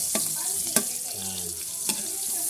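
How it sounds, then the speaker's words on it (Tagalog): Onion and garlic sauté in a pan while a home cook prepares vegetables with chicken liver and gizzard adobo. A steady, quiet sizzle runs throughout, broken by a few sharp spoon or spatula knocks against the pan. "Inisan na natin ang sibuyas at bawang."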